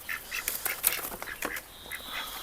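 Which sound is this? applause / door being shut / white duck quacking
white duck quacking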